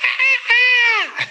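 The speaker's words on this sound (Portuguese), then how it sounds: "Agora mesmo os passarinhos estão fazendo a maior algazarra lá fora." Birds calling loudly outdoors, a raucous, honking-like cry with strong harmonic tones, sustained for about a second with a brief pause and a short call at the end, close and clear.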